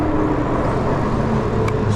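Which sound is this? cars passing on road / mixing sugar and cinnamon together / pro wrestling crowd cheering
cars passing on road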